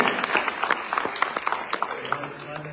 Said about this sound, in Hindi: तो एक बार तालियां बजाइए